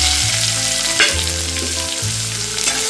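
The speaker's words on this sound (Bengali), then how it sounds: "এটা হালকা ফ্রাই করে নেবো এবার এর মধ্যে কুচনো পেঁয়াজটা দিয়ে দিলাম আমি" Chopped onion fries in a pan with dried red chilli and nigella seeds, giving a steady loud sizzle with occasional stirring scrapes and no speech.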